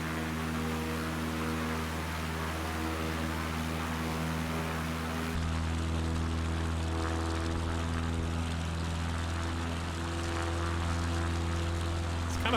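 Propeller aircraft engine droning steadily in flight within a video game flight simulator, a loud continuous hum with strong low harmonic tones that shifts slightly partway through, with no speech.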